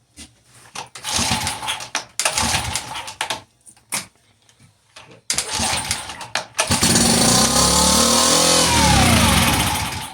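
A 2019 Mercury 2.5 hp outboard motor with a fuel problem is pull-started: several short cranking bursts separated by pauses, then it catches and runs loud and steady at close range.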